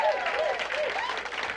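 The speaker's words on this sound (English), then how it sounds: "Give them a big round of applause." Short burst of audience applause for 1199 SEIU home health care workers at a minimum wage rally, dense clapping from a crowd with whistles and cheering voices mixed in.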